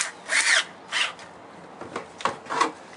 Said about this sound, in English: Let's go ahead and tighten up this last clamp.